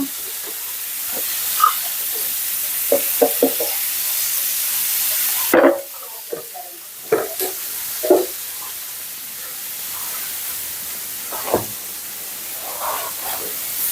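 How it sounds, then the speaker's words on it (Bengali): Cauliflower, potato, onion and green chili hit a hot pan on the stove with a soft steady hiss, broken by scattered clanks and knocks from cookware nearby. "এই যে ফুলকপি আলু দিয়ে ভাজি হবে এখানে দিয়ে দিচ্ছি চুলাই"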